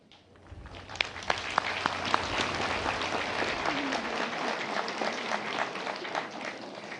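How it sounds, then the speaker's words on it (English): A large crowd applauds steadily at a Philippine Military Academy commencement, a dense wash of clapping that builds and holds, with a few sharper individual claps standing out near the start. "render the loudest round of applause to your families, especially to your parents and guardians"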